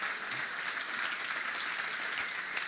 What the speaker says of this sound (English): Je pense qu'on devrait les applaudir parce qu'ils font un excellent travail.